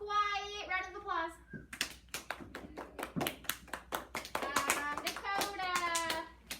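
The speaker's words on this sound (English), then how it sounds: "Let's give her a quiet round of applause." Quick soft claps in a short burst during a children's math class, with children's voices talking before and after.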